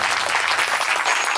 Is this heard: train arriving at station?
no